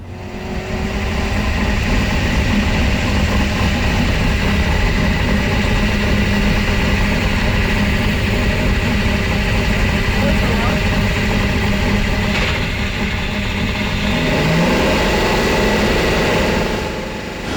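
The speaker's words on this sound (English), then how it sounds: "I think it's how the car says hello. It's the roaring and the signature in the front." A Carrera Panamericana race car engine rumbles loudly and steadily up close for the whole stretch, a sustained idling roar with a brief rise near the end, with speech-like sounds mixed in.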